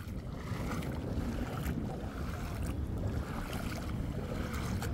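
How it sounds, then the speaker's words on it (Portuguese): Motorboats passing at Praia dos Carneiros beach in Pernambuco at low tide, heard as a continuous low rumbling engine drone mixed with wind buffeting the microphone and the wash of surf. "E as lanchas, ó."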